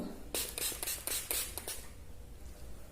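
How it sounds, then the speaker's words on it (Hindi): Blue Heaven makeup setting spray misted onto a face, heard as a quick run of about six soft, airy pump bursts close by, followed by quiet room tone. "तो ये है ब्लू हेवन का सेटिंग स्प्रे, ये मैंने लगा लिया है"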